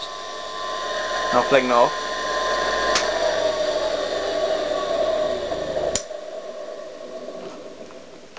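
A restored lathe's electric motor spinning steadily, heard as a loud, continuous whirring hum with a brief spoken phrase near the start, then cutting out abruptly near the end.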